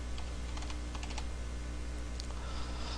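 Keys clatter on a computer keyboard while a title is typed into an Excel spreadsheet, with quiet, close, irregular taps in short bursts over a faint steady background hum.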